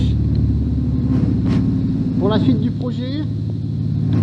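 A Renault 5 Maxi replica engine idles loudly at its first start, a deep steady rumble with a throbbing low pulse, while someone talks over it close by.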